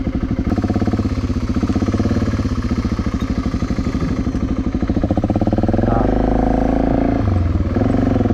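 Royal Enfield Scram 411 motorcycle on an off-road skills course, its single-cylinder engine idling steadily close by, then revving up briefly as it rides off a plank.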